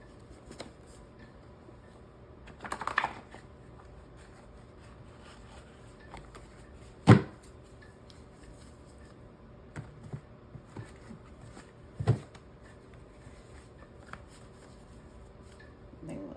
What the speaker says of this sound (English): let's make sure it was thoroughly shuffled